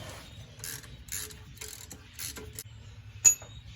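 A ratchet snugs the starter mounting bolts on a Chevrolet Silverado. It gives short, soft clicking bursts close by, ending with one sharper metallic tap, with no speech.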